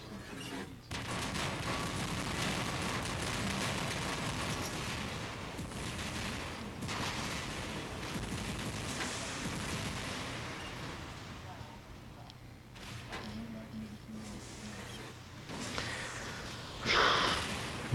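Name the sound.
pulse weapon system firing in a video game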